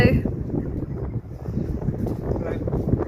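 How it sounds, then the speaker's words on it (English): Heavy wind buffets the microphone with constant low rumbling gusts, steady and loud throughout the short stretch. "Probably because it's quite windy."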